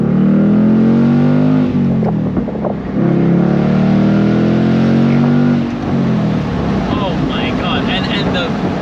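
A 2025 Ford Mustang GT pulls hard from first gear, its engine climbing loudly in pitch, cutting off briefly at a shift and then climbing again, heard from inside the car under some talking.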